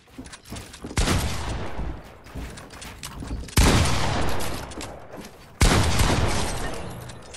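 Three heavy, booming gunshot volleys go off in Fortnite, each a sharp crack that trails into a long, roaring decay. Quieter shooting runs between them, and no one is talking.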